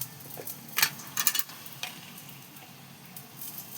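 A spoonful of ghee added to a biryani pan gives a few light crackling sizzles and soft stirring clicks, close and quiet, with a faint hiss underneath.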